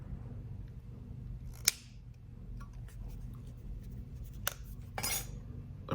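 Snipping a small piece of medium silver solder for a silver turquoise bezel repair: a few crisp metallic cuts and clicks, close and quiet, with faint handling noise between them.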